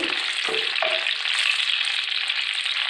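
Garlic frying in plenty of oil for lemon rice, a dense continuous sizzle with a few faint stirring scrapes near the start, close and steady throughout.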